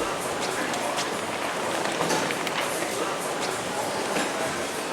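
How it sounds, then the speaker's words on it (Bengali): A train pulls into a platform at Oslo station on the Bergen line, a steady broad rumble and hiss of the carriages filling the whole stretch, with faint station voices in the background. "ট্রেন এসে গেছে"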